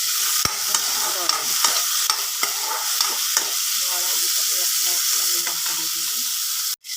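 Elephant apple, cooked in a kerahi wok for a fish curry, sizzles and fries steadily while a spoon scrapes and stirs in repeated strokes, the close, continuous crackle running under light clatter.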